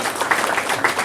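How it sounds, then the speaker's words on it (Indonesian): Short burst of audience clapping at a Balinese Hindu nyastra gathering with Ida Pedanda priests in Tabanan, a brief patter of hands with slightly uneven rhythm and no speech over it. "Tepuk tangan sama-sama."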